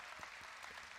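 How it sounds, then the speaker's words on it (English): Audience applause at the NVIDIA keynote at COMPUTEX 2023, a brief, steady wash of many hands clapping from a large crowd with no voices. "Let us clap."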